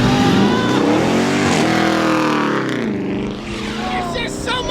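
A K20-engined car revs hard at a Houston car meet, its loud, close engine note climbing and falling in pitch over several seconds amid crowd noise.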